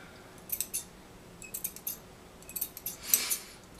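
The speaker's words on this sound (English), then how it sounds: "We'll cut the corners off" Scissors snip the corners off a furnace filter that is being trimmed into a tapered pine-tree shape, giving a series of short, crisp cuts in quick pairs, fairly close and alone without talk.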